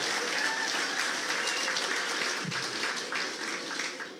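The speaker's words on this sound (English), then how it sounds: "You can clap for yourself." Audience applause at a Liberian diaspora conference in Washington, D.C., a broad sustained patter of many hands clapping that stays fairly even, then softens slightly toward the end.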